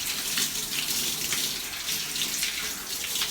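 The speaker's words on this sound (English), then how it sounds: "So now I'm rinsing it out, and as I'm rinsing, I'm really rubbing my scalp too with my fingertips" Shower water pours steadily while hair is rinsed out, a close, continuous broad hiss with slight fluctuations and no voices.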